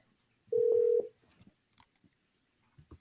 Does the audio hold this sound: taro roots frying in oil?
no